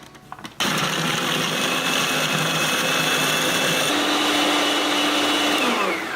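A blender grinds onion, tomato, ginger, green chili, garlic and olive oil into a smooth paste. It starts up abruptly after a few clicks, then whirs loud and steady, and the pitch rises partway through.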